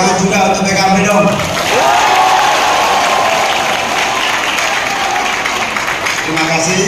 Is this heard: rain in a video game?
no